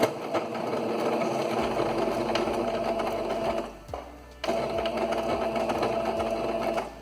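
A domestic sewing machine stitches a decorative stitch on a dish towel, a fast steady mechanical whir close up. It pauses briefly midway, then resumes at the same pace.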